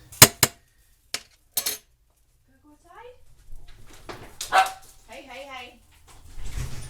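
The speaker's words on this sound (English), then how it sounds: "I have a dog that wants out." A dog that wants to go out gives a few sharp barks and short whimpering yips, close by in a quiet kitchen, with a person speaking in between.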